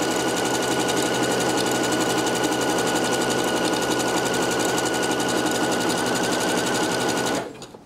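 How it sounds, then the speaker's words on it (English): A sewing machine runs a continuous zigzag stitch around the edge of a fraying fabric nautical cushion, a steady loud mechanical whir and rapid needle clatter lasting several seconds before stopping abruptly. "All the way around with my little zigzag stitch."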